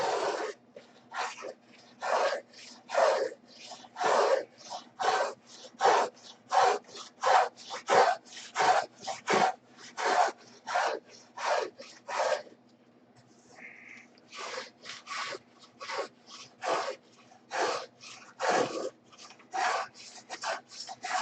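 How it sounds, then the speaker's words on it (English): Wooden longerons on a model aircraft fuselage being sanded by hand, a steady run of about thirty rhythmic rasping strokes, close and fairly loud, with a brief pause midway and no talk. "then sand the longerons out"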